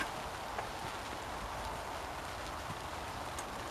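Rain falls steadily on an allotment, a soft even patter with occasional sharper drops, faint and continuous with no talking.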